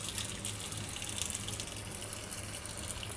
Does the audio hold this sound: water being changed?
yes